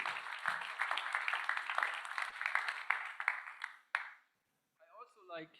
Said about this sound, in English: please join me in giving a huge round of applause to all the teams who pitched today